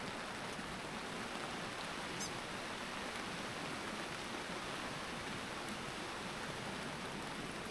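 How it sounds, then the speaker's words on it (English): Constant rain falling on an ultralight tent while camping, a dense, even hiss that stays steady and unbroken throughout with no talking. "And this rain is just constant."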